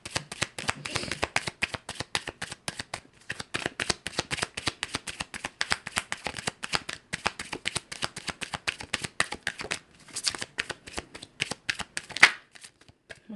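Tarot cards are shuffled close up in rapid, crisp riffling bursts with short pauses between them, alone and without talk.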